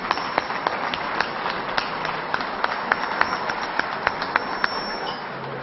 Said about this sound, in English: let's give a round of applause to the galaxy